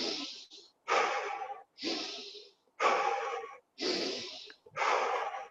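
Six deep, forceful breaths in a steady rhythm during a guided breathwork session, each a loud, close rush of air separated by short silences, with no talking.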